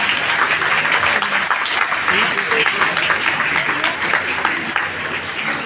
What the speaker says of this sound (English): So big round of applause for my CRO